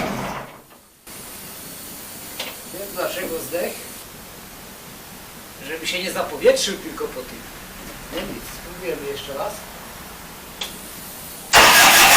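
A Bobcat Hytrack 1760 diesel engine, just repaired and with glow plugs preheated, is cranked and bursts loudly into life only at the very end, after a long stretch of someone talking over quiet background noise.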